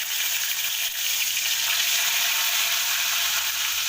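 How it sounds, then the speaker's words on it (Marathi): Curry leaves sizzle in hot oil in a kadhai right after mustard seeds have crackled, giving a steady, bright, close hiss that stays loud and continuous throughout with no talk over it. "राई आपली चांगली तडतडली मी कढीपत्ता घालणार आहे"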